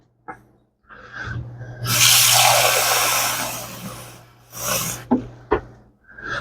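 Water pours from a measuring cup into a cooking pot for twisted pasta, a loud steady splashing rush lasting a couple of seconds, framed by lighter knocks and clatter before and after.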